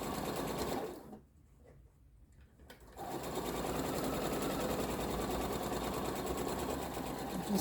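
A sewing machine stitches fabric pieces of an Interwoven Star quilt block at a quarter-inch seam, a steady close whirring hum that pauses briefly for about two seconds, then resumes and runs evenly to the end.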